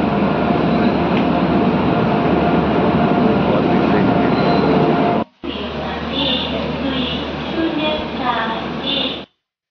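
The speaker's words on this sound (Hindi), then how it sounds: "अब दोस्तों हमारी ट्रेन आ चुकी है असम की ज़मीन पर" A passenger train running through Assam on the way from Delhi to Guwahati: a loud, continuous rumble and rattle of the carriage with a brief drop partway through, then steady roar with faint squeals, close and enveloping.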